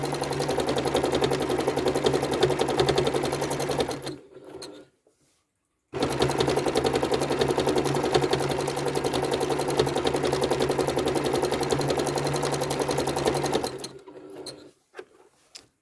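A sewing machine stitches a quilting pattern of repeating curves in a steady, rapid, close hum. The needle runs continuously for about four seconds, stops briefly, then runs again for a long stretch before halting.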